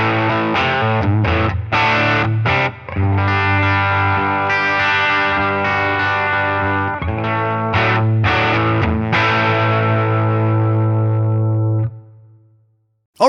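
Electric guitar through a Line 6 Helix Divided Duo amp preset, distorted with chorus and echo, plays a loud, dense riff of strummed chords and single notes, then rings out and fades near the end.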